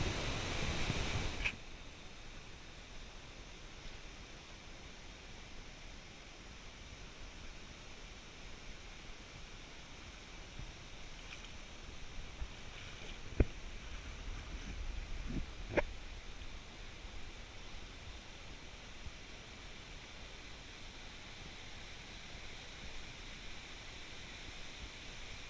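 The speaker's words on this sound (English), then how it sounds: "these fast flowing cold mountain rivers are the reason this area is" A fast-flowing cold mountain river at Papallacta, outside Quito, gives off a steady, close rushing roar of water that holds even through the whole stretch, with a couple of brief knocks partway through and no voices.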